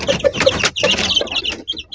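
A hen and her six newly hatched chicks make quick clucking and peeping sounds up close, a busy burst of short calls with brief gaps between them.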